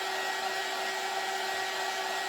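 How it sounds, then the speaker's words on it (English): A hair dryer blows steadily over a Christmas door hanger craft piece, a loud, continuous close-up whoosh with a constant whine, no talking. "I guess it would help if I had my dryer over the piece I'm trying to dry"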